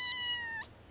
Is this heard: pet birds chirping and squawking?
no